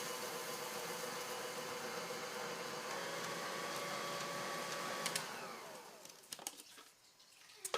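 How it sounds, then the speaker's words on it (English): An electric stand mixer whirs steadily for about five seconds, then winds down and stops, followed by a few light clicks and knocks; the setting is a kitchen where a graham cracker cake is being made. "before that we should probably plug in the mixer"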